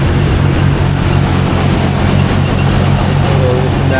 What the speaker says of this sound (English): But the noise you hear in the background is my R32 GT-R.